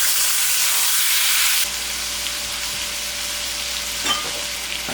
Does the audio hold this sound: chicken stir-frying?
yes